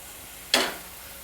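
Dried red chillies hit hot oil for a Bengali bori posto dish, giving one sudden bright sizzle that flares loud and then fades over a fraction of a second, close by, with no talk.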